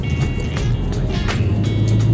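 Steady road traffic on Karachi's Lyari Expressway, a close, continuous rumble of car engines with tyre noise and vehicles passing by, heard from inside a moving car.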